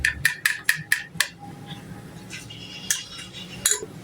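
A spoon mixing soy sauce in a bowl clinks in a quick run of sharp metallic taps, then pauses before a few more scattered clinks and scrapes.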